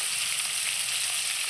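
River fish frying in oil in a wok, giving a steady, dense sizzle that holds even and fairly loud throughout, with no voices.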